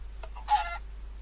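A chicken in the Minecraft UHC video game gives a short, clear, close synthetic cluck, followed by a brief pause and a fainter sound, with no talk over it.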